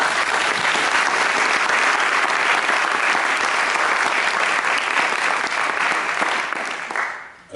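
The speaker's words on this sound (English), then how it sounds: "they deserve a round of applause" An audience at a City Council candidates forum in Thousand Oaks claps in loud, sustained applause that fills the room for about seven seconds before quickly tapering off.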